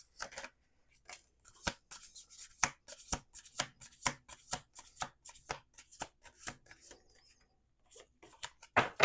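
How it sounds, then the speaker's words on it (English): Tarot cards are shuffled close up in bursts of crisp riffling and snapping taps, irregular and dry, with short quiet gaps between handfuls. "We're going to do 2 more shuffles."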